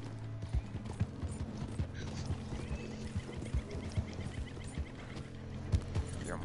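A horse gallops in the video game Red Dead Online, with rapid hoofbeats thudding steadily over a dense, rumbling game soundscape.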